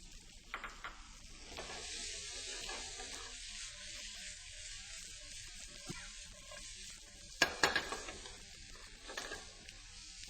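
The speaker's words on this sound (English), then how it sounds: "I'm going to introduce some garlic and some onions and allow those to cook right along with the tofu" Tofu cooking with garlic and onions gives a steady, close sizzle in a hot pan, with a few louder bursts of crackle and stirring clatter partway through.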